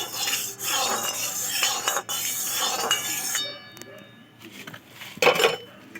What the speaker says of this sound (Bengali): খুন্তি দিয়ে করে চারিপাশে লাগিয়ে নেব